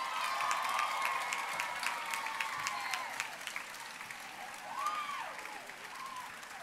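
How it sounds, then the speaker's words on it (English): Applause at a Year 12 graduation ceremony, a sustained wash of clapping from a large crowd, fairly distant and even, with scattered cheers rising above it. "And that deserves a round of applause."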